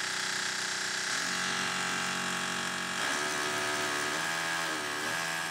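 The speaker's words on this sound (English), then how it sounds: "This pneumatic drill that I used to make the hole earlier" A pneumatic drill bores a hole in a wall for a curtain rail, its motor whining steadily and close with pitch shifts as the speed changes, and no talking.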